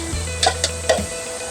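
Onions, peppers and garlic sizzle in a pan for a keto eggplant and sausage dish, a steady hiss broken by a few sharp clinks and stirring taps.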